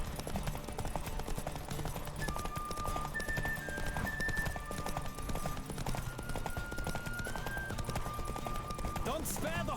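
Horse hooves clip-clopping at a steady gallop in The Witcher 3: Wild Hunt, a continuous rhythmic patter running under game music and a talking voice.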